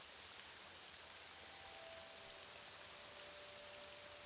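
Steady, even hiss of heavy rain falls in the video game Morrowind, running the N'wah Simulator mod, with a faint thin tone drifting above the constant downpour.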